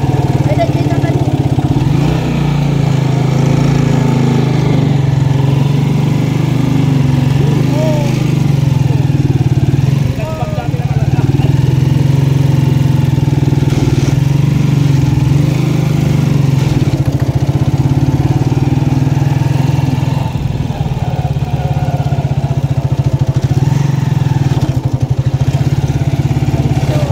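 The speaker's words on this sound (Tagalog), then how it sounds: "Motor" Steady, loud motorcycle engine running continuously near a river with rock formations in summer, a constant drone with people talking over it.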